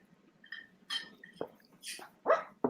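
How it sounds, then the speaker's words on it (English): A sleeping dog whimpers and gives soft muffled yips and short barks during a nightmare, faint and intermittent against a quiet indoor room. "Can you hear my dog is having a nightmare?"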